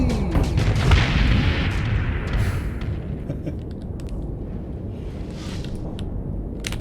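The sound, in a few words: Reaper torpedoes firing and exploding in video game Starsector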